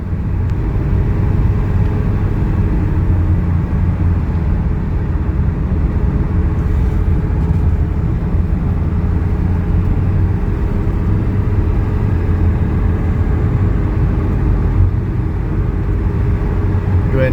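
A 1985 Mercedes 300TD diesel wagon pulling hard after a kick-down downshift, its engine droning loud and steady from inside the cabin with constant road rumble throughout.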